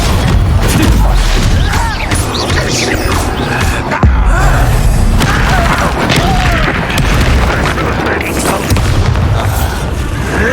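Confringo blasting-curse explosions in the Hogwarts Legacy video game, heavy booming blasts over a dense, continuous wash of loud combat noise, with one sharp impact standing out midway.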